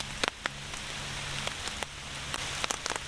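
Steady rain patters onto a tarp shelter on the Appalachian Trail in Pennsylvania, a continuous close hiss broken by sharper individual drops striking the fabric, with no talking.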